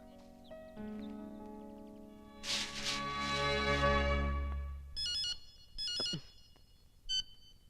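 A cell phone ringing at night in a quiet room, a melodic ringtone with bright repeated chiming bursts that play clearly and alone, ending in a few short pulses.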